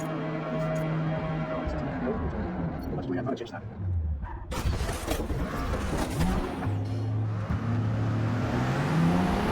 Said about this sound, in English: Exiting pit lane now in the Mark III Supra